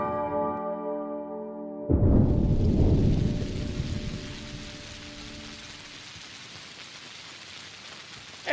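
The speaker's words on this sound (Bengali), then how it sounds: "এই দেখো আবার বৃষ্টি শুরু হয়েছে।" Heavy rain suddenly begins after a brief tonal musical passage, a loud dense rush of drops hitting surfaces that gradually settles into a steady, softer downpour.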